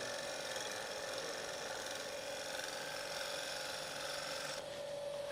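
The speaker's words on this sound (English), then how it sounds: "So using this, I can literally shear scrape" Negative rake scraper shearing across spinning wood on a lathe, a steady continuous rasping hiss with a faint tonal whine running throughout, close and fairly even in level.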